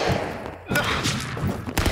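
Rapid bursts of gunfire from the stick-figure brawler game Stick Fight, dense overlapping shots with thumps across the clip, briefly dropping out before resuming loudly.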